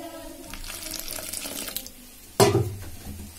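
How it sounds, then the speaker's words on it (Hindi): Water pours from a tap into plain flour being mixed into dough for urad dal kachori, a steady trickle in a kitchen that ends with a louder splash near the end. "पानी डालेंगे"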